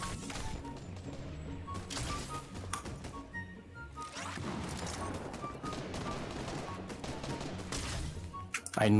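Shots pop and rattle in quick bursts during a chaotic Fortnite fight, some near and sharp, others farther off, under a busy mix of game effects.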